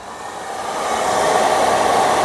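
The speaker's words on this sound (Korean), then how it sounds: "그런데 드라이기 한번 켜봐." A hair dryer runs with a steady, loud whooshing hum, growing slightly stronger as it powers up.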